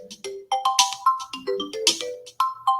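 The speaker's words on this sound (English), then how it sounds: "sorry, this phone is ringing" A mobile phone ringtone plays alone: a loud, melodic run of bright electronic tones repeating in short phrases throughout.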